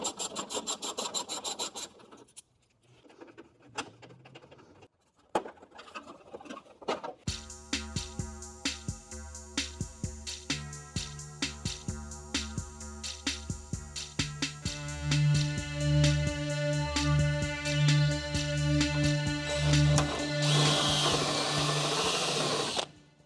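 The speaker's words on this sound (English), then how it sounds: "we're going to get rid of that, and then start drilling" A power drill whines steadily, grinding through metal in long bursts while drilling out spot welds, after some brief scraping and handling noises at the start.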